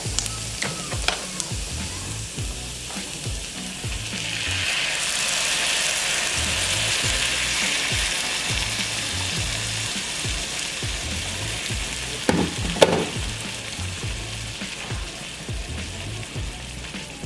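Chile fries in a pan for spicy salsa. A loud, steady hiss swells in the middle, joined by close rhythmic scraping and clattering from stirring, with a few sharper knocks near the end.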